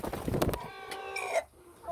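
A hen clucks close by in a backyard flock, a burst of busy low clucks followed by a few higher-pitched calls.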